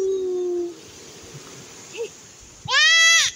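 Goats on a hillside pasture bleat: a thin, drawn-out cry at the start, then quiet, then one loud, close, wavering bleat near the end.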